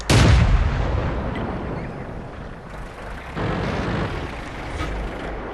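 Tank cannon fire in World of Tanks from a light tank: a loud, close boom at the start followed by a long rolling echo and further distant rumbles and thuds.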